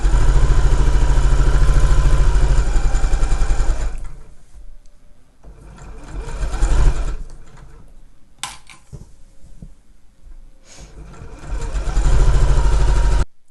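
Sewing machine stitching down the seam of a zip tote bag, a loud steady mechanical whir that runs in bursts at the start and end with quieter pauses and handling noises between them.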